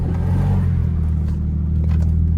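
A car engine held on the trans brake during a launch, a loud, dense low rumble that stays steady and close for a couple of seconds with no talking.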